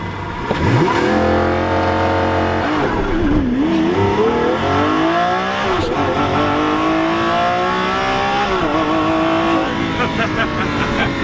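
A Lamborghini supercar launches hard in thrust mode. The loud, close engine roar climbs through rising revs with several gear changes across the run, and the wail stays dominant throughout.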